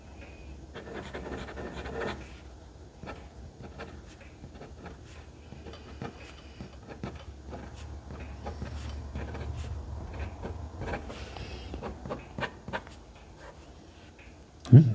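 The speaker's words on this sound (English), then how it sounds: "I'm going to be quiet and let you hear how it writes." Jinhao 950 fountain pen with a fine nib writing on ordinary paper on a table, giving faint, close scratchy strokes and taps with a soft low background hum, ending with a brief louder knock.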